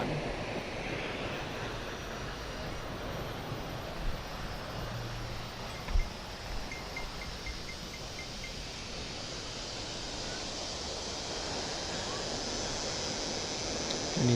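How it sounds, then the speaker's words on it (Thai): Constant rushing roar of Tad Fane waterfall near Paksong, Laos, broad and steady like distant surf, with a few faint thumps and no clear talk. "น้ำตกตาดฝาน"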